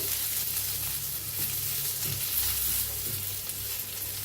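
Chilli chutney with cumin and coriander sizzles steadily in a pan, soft scraping stir strokes audible under the continuous frying hiss; close and moderately loud, with no talking.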